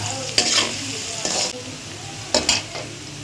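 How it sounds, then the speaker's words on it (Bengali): Sliced onion frying in oil until brown, a moderate sizzle broken by a few sharp spoon-against-pan stirring scrapes, with no talking. "পেঁয়াজটা একটু বাদামি রঙের ভেজে নিই"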